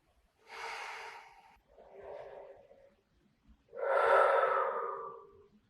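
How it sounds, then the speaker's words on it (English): Deep, audible breaths taken while lying face down in a stretch over a bolster or pillows, three slow breaths in close succession with a loud final exhale, no talking over them. "breathing deeply"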